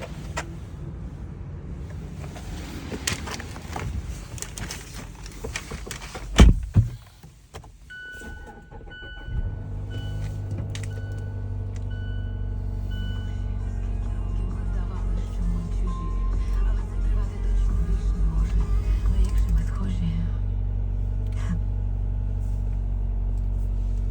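A used Mazda CX-5's engine cranks and catches after a few clicks and thumps, then settles into a steady low idle rumble that continues throughout, with some background talk.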